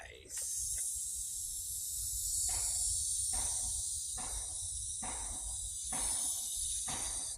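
A human voice hisses a drawn-out S sound imitating a slithering snake, a steady close sibilant stream held for several seconds, broken by brief pauses and short bursts of breath.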